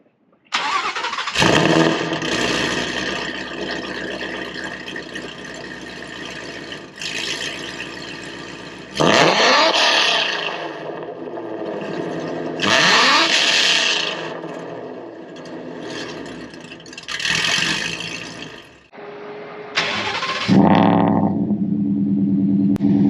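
A modified Ford with a VooDoo 5.2 engine and aftermarket exhaust fires up, settles into a rumbling idle, then barks through several loud revs separated by pauses, recorded close by.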